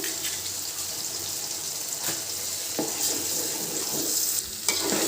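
Continuous crackling sizzle of an egg frying in a pan, with occasional scraping and clinks of a utensil, no voices.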